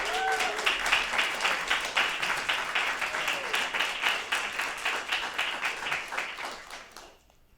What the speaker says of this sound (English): So let's just give them a round of applause even before you see it.